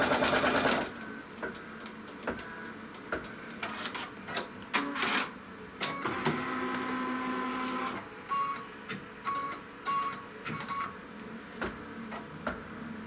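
Computerized embroidery sewing machine stitching a quilt tack-down, a steady rapid mechanical whir with ticking needle strokes, stopping and restarting in short bursts toward the end, close and alone.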